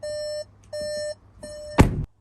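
Warning beeps from a wrecked VW Transporter with the driver's door open and the van wrongly reading as not in park: three long, evenly spaced electronic tones, loud and close, followed by a brief thump.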